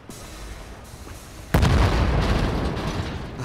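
A bomb blows up in Wolfenstein: The New Order, a sudden loud blast at mid-clip with a deep rumbling tail that keeps roaring to the end over quieter game ambience before it.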